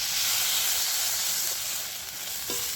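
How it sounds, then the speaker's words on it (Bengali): Ginger garlic paste and turmeric sizzling in hot oil in a pan, a steady bright frying hiss with a few faint stirring scrapes, heard up close and without talk. "তো তেলের মধ্যে একটু হলুদ দিয়ে আদাটায় কষে নেবেন"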